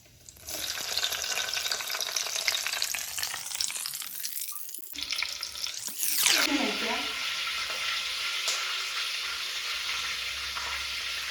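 Cumin seeds, mustard seeds and garlic frying in hot oil for tomato gojju, a loud steady sizzle with a sharp burst as more goes into the pan midway, crackling and stirring throughout.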